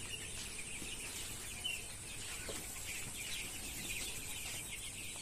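A flock of 17-day-old broiler chickens on a small local poultry farm in Assam murmurs and clucks faintly and steadily, buried under a constant hiss of background noise.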